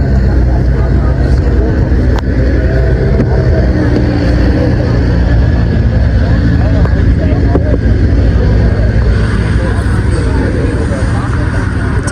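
A BMW M4 at a drag racing event, its engine a loud, constant close-up roar throughout, with people talking over it.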